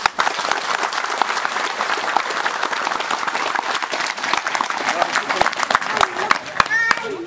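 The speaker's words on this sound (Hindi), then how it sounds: "तो हम सब कोई ताली बजा कर रसा मैडम का स्वागत करेंगे" A village audience in Burudih claps to welcome a visiting IFAD team member: sustained, crowded applause with sharp individual claps standing out, and voices murmuring underneath toward the end.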